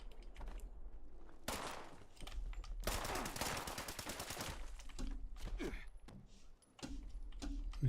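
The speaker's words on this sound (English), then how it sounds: "Who's shooting at me?" Rapid automatic gunfire in Fallout 76, dense bursts of repeated shots with a sustained volley in the middle and scattered sharper reports around it, loud and close with no talking.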